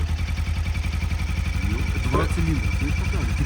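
A new 2023 Suzuki V-Strom 250 motorcycle engine running close by with a steady throbbing idle and a brief rev, while people talk over it.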